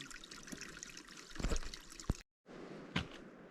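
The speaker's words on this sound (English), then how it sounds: "Water running from somewhere. Trickling its way down to the big river" Water trickles steadily downhill toward a large river on the Olympic Peninsula, a continuous soft splashing with a few brighter gurgles and a brief drop-out near the end.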